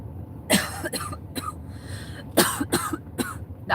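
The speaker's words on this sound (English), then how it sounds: "The ice cream gave me a dry cough." A series of sharp, dry coughs, about eight in quick clusters, close and loud with brief pauses between them.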